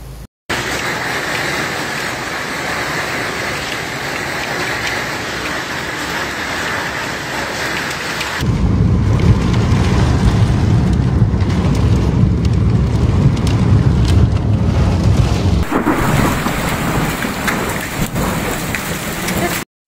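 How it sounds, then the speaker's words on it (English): Heavy rain and hail pound down during a violent Sunday-afternoon storm in Newcastle, KwaZulu-Natal, South Africa: a steady close roar of falling water that swells louder and deeper halfway through, with dense drumming hits. "the vicious rain and hailstorm that struck Newcastle on Sunday afternoon"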